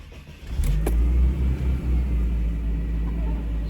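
A 1993 Mercedes 300E with the 2.8 engine cold-starts: a brief starter crank, then the engine catches and settles into a steady, close, low idle rumble.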